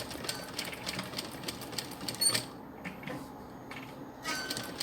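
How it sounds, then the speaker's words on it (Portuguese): Sewing machine stitching a cloth doll slowly along a traced line, a steady mechanical whir with rapid needle clatter that stops and starts in short runs, close and moderately loud. "quem não tem muita habilidade com a máquina, vai treinando e não tem problema costurar devagar"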